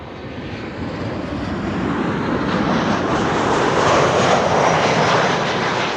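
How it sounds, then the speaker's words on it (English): A KLM Boeing 737-900 airliner arrives at Amsterdam Schiphol, its jet engine roar swelling and growing louder as it nears, broad and steady with no voices. "KLM flight 1268 arriving from Copenhagen, 737-900"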